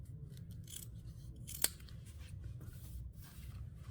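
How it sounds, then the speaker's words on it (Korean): Scissors snipping through fabric while an eco bag is sewn from leftover cloth, a single crisp close cut standing out against a quiet, low room hum. "여기를 잘라주세요"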